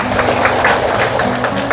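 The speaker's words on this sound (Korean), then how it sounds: "박수 한번 주세요" Audience applause fills a hall at an 80th birthday celebration, a dense steady patter of many hands with a faint tonal hum underneath, continuous throughout.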